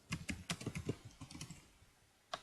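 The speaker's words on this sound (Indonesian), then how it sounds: "di sini kita misalkan ketik" Rapid clicking keystrokes on a computer keyboard while a chat message is typed into a client-server sales application, a dense burst of taps, a pause, then a final few keys.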